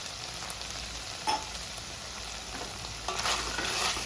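Chicken pieces frying and being stirred in a pan while cooking, with a steady sizzle broken by occasional scraping clatters of the stirring utensil, close and alone.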